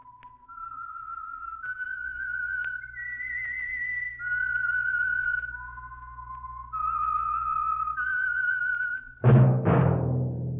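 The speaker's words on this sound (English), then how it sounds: "That whistle is your signal for the Signal Oil Program, The Whistler." A clear solo whistle carries the slow melodic theme tune of the radio program The Whistler in sustained notes, ending with a sharp burst of noise at the close.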